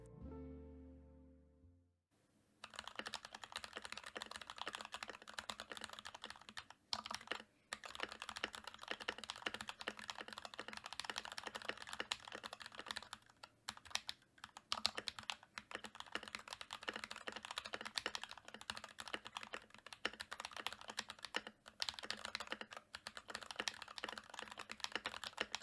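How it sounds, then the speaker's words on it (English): Fast, continuous typing on an NK65 Milkshake mechanical keyboard, with crisp, close keystrokes in a steady stream and a few brief pauses, alone with no voices. "I then reassembled the keyboard and did a small type test."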